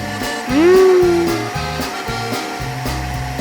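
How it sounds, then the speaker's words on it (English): A cartoon vacuum cleaner in a Peppa Pig animation gives a loud whirring motor hum that swells up with a rising whine, then settles into a steady droning run over rhythmic background music. "Everything is quiet until the vacuum cleaner wakes up."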